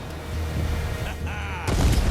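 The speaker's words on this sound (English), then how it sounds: "Check out the fireworks." Fireworks bursting during a night scene in the Far Cry 6 video game, a run of booming, crackling blasts that swell louder toward the end, with a faint voice mixed in.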